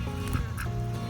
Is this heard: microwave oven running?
no